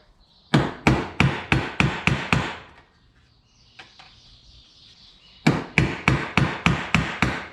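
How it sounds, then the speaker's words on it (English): Sharp metallic hammer blows drive a socket to punch holes in stainless steel body trim for a 1951 Chevy, two evenly paced bursts of about eight strikes each, close and loud, with quiet handling noise between. "You can use a socket, punch these holes, get in the centre."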